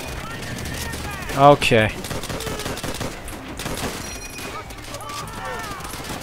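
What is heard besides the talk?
gunfire from a video game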